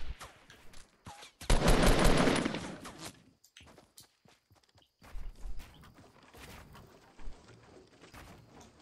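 Gunfire in the battle royale video game Fortnite: a loud, dense burst of rapid shots followed by scattered sharper cracks and bangs, with no talking.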